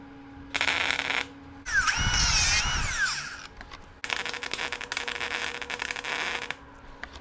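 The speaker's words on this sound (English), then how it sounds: "and I'm just going to MIG weld it." MIG welding of an anvil stand's steel head onto its frame: short bursts of harsh crackling buzz stop and start, with a louder whining, screeching burst in between.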